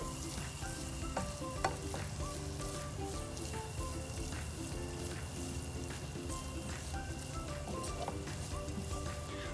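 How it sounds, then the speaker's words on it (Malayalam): Chili powder and spices sauté in a pan for a shrimp roast, with a steady soft sizzle and scattered scraping taps as the mixture is stirred. "ഇതെല്ലാം കൂടെ നന്നായിട്ടൊന്ന് ഇതിൻ്റെ പച്ചമണം പോകുന്നത് വരെ ഒന്ന് വഴറ്റിയെടുക്കാം"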